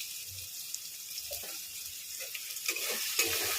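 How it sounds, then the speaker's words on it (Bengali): Spices with chopped tomato, salt, sugar, turmeric and chili powder sizzle in a pan for masala pasta, with close, soft scraping strokes of a spoon stirring the mix and a steady frying hiss. "এবার এটাকে ভালো করে কষিয়ে নেব"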